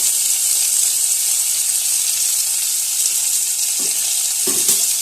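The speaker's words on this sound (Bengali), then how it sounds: "টমেটোগুলো ভেজানো টমেটোটা দিয়ে দিচ্ছি আর দিয়ে দেবো গ্রেট করা আদা" Soaked tomatoes and grated ginger hitting hot oil for a vegetarian curry-leaf dish, giving a loud, steady sizzling hiss throughout with a couple of faint stirring knocks near the end.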